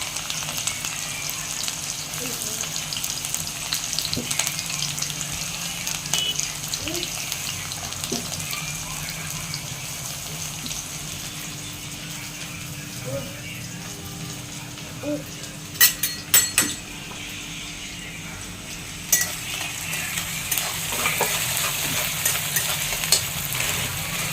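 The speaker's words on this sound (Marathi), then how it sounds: "इकडे आम्ही कांदा परतून घेत आहोत मस्तपैकी" Chopped onion is sautéed with cumin in a pan, giving a steady low sizzle with occasional spoon scrapes and a few sharp metallic clinks of utensils against the pan.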